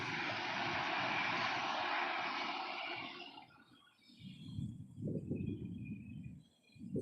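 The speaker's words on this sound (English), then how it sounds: "Just landing, we've got a Ryanair coming in from Katowice." A Ryanair passenger jet arriving from Katowice lands at Manchester Airport, a broad loud roar that fades after a few seconds into low rumbling and distant engine noise.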